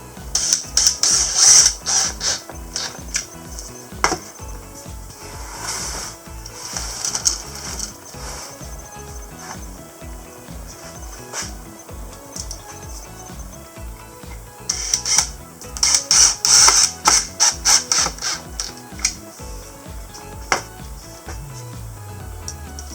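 Screws being driven back into the housing of a pancake air compressor, heard as bursts of rapid ratcheting clicks from a hand screwdriver with quieter handling and clinks between, close and fairly loud.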